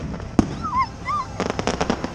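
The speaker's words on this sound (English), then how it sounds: "Your first fireworks?" Fireworks going off outdoors: a sharp single bang early, then a cluster of rapid crackling pops, with a high whistling squeal between them and a faint voice in the background.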